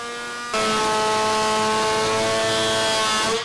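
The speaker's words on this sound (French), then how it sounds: "j'ai branché l'aspirateur sur la raboteuse, comme ça je vais te faire un test en direct" A Scheppach DC500 chip extractor connected to a wood planer switches on after half a second with a loud, steady, droning whine, then runs at full speed until the clip ends.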